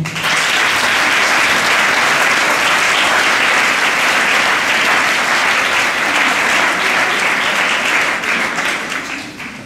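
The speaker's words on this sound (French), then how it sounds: "On peut les applaudir." An audience applauds a dance group at an evening charity event for an African solidarity project, with loud, dense, continuous clapping from many people that holds steady and fades slightly at the end.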